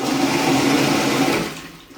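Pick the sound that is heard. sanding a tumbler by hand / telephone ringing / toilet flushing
toilet flushing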